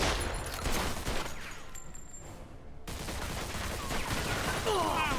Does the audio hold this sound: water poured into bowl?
no